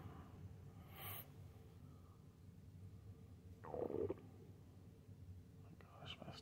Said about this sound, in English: Stomach's making weird noises.